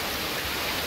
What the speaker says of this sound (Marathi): बाहेर मस्त पाऊस पडतोय